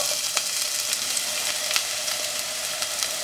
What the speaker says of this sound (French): Dans de l'huile, et là je mets des oignons dans de l'eau.